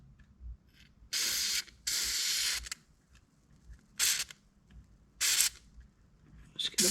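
WD-40 is sprayed gently onto the outer edges of an ATV wheel bearing in several short, close hissing bursts separated by quiet pauses.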